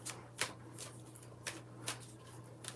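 A deck of cards is shuffled for a card reading, giving several soft papery riffles and snaps at uneven intervals against a quiet background hum.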